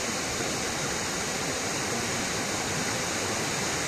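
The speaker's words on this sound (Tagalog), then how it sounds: "Yung lagaslas lang ng talon, no?" Rushing water of a waterfall at a resort in Majayjay, Laguna, a dense, even, broadband roar that stays constant throughout with no voices.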